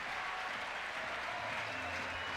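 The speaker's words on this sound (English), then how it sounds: "The crowd's getting right behind her." Spectators at a bouldering World Cup final in Meiringen cheer and clap for a woman climbing, a dense, continuous roar of applause and crowd noise throughout.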